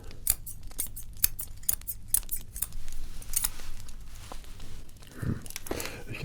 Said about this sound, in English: And then also we have this pair of scissors here.